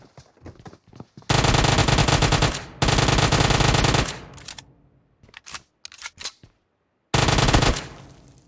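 Automatic gunfire in the BGMI mobile battle royale game, long loud bursts of rapid shots broken by short pauses, footsteps and clicks, with a final burst near the end.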